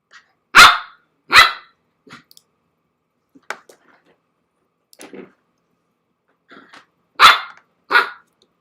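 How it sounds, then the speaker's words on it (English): A pet dog barks sharply indoors in several loud, separated bursts, with quieter growls and small clicks in the pauses between, with no talking over it. "My dog is flipping out right at 8 p.m."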